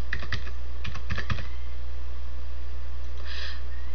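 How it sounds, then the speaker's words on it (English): Keys on a computer keyboard being typed in a short run of rapid, close clicks, followed by quiet and one faint later tap. "Type in the product's price."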